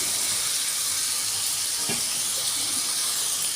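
Cut potato pieces with turmeric and salt fry in a pan with a steady, even sizzle and hiss, close and continuous, with a small stir partway through.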